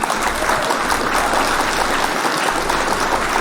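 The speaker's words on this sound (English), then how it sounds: "I think that we can clap for consensus." A live news broadcast crowd breaks into sustained applause, dense and steady throughout, loud and close, with no talk over it.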